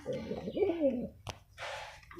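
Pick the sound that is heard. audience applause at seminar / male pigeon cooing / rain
male pigeon cooing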